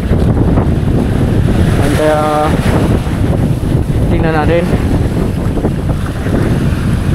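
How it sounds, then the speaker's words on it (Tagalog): Strong wind roars steadily across open sea, building stronger, buffeting the microphone with a constant rushing noise while a person speaks over it. "Palakas ng palakas tong hangin niya."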